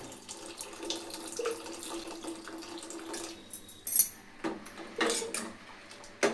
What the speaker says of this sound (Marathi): तर यामध्ये टाकायचं आहे गरम पाणी